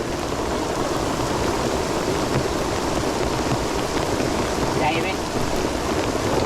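Steady rain hisses down during a fishing trip at a pond in Thailand, a dense, even wash of noise throughout while someone speaks briefly.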